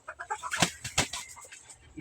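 Gamefowl, a Boston Sweater and a pure Golden Monkey, cluck in quick, close, choppy bursts over two seconds, with a louder squawk near the middle and a low murmur under it.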